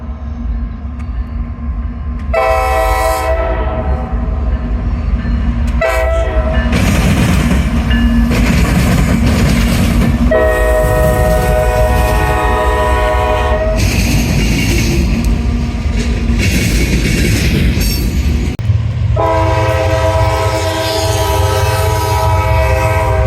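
Dual locomotives rumble past in Fort Collins, sounding long, loud horn blasts in several separate stretches over a continuous heavy roar of engines and rolling rail cars.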